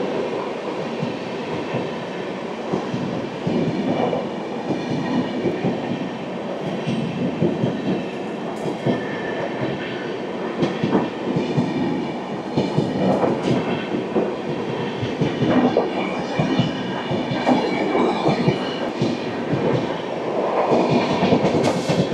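A Rajdhani Express overtaking, heard from aboard the Howrah–Mumbai Mail near Panebari, makes a long rolling rumble with rhythmic clickety-clack of wheels on rails. It swells and fades over about twenty seconds, with occasional faint squeals.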